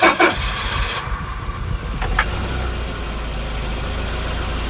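A Volvo 740 engine idles on its own with no throttle pedal fitted, after sitting unused for a while. It catches with a few rough bursts, then settles into a steady low drone close by.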